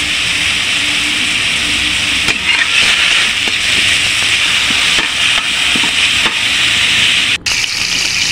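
Chicken intestines fry in their own rendered fat, making a loud, continuous sizzle with occasional stirring clatters and crackles and no talking over it.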